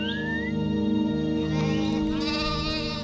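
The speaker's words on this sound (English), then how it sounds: "he has been walking his flock of sheep for the last 25 years." A flock of sheep bleats in the Himachal grasslands, with several overlapping wavering cries, some near and loud, others farther off, over a steady outdoor backdrop.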